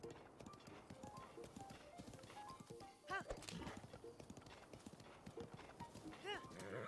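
A horse in Zelda: Breath of the Wild trots with rapid, close clip-clopping hooves, with a brief whinny-like cry mixed in among dense game effects.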